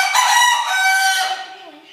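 Chicken vocalizing near the microphone, a loud, drawn-out call with harmonics that fades toward the end, heard alone without talk.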